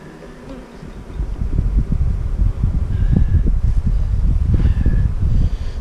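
Honeybees swarm around an open hive, their loud, steady buzzing close by and continuous, rising and falling as insects pass near.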